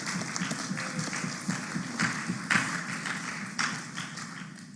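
Applause at an exam results release ceremony for local registrars, a moderate crowd clapping steadily with a few sharper individual claps standing out, somewhat distant in a large room.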